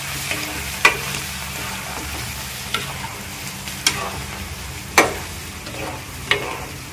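Garlic frying in a hot pan with the heat switched off, a steady close sizzle broken by several sharp scrapes and taps of a spatula against the pan.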